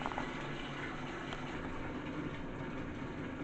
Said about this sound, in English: I've got warm water going